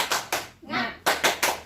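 Group of adults doing a rhythmic spirit clap at a parenting-session meeting, several sharp claps in a quick pattern with a brief shout between them.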